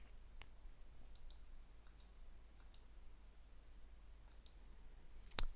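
Computer mouse clicks, a handful of faint, sharp, isolated clicks spread over quiet background hum, with a louder click at the very end.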